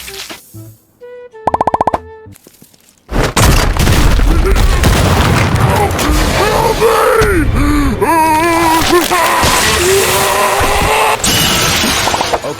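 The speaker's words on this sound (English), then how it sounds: "Sound is from Half-Life 2 Zombie in reverse." A reversed Half-Life 2 zombie kill sound plays in a video game: short tonal blips, then a loud, sustained, distorted groaning roar with warbling tones that fills the rest of the clip.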